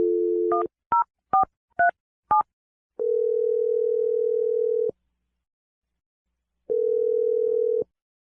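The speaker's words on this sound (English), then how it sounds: "I'm going to dial Melanie's number right now." A telephone call being placed: a dial tone, then five quick keypad tones in a row, followed by two long ringback tones separated by a silent pause, clear and close with no voices.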